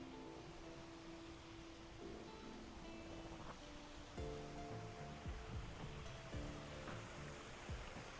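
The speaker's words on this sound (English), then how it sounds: "Waterfalls coming off of each side." Several waterfalls spill off natural rock into a lagoon-style backyard pool at a Las Vegas mansion, a steady, broad rushing wash with no voices.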